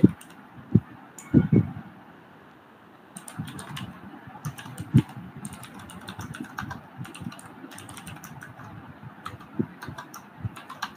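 C code being typed on a computer keyboard, close and moderately quiet: a few isolated key taps, then a steady run of rapid clicks with occasional louder keystrokes, no voices.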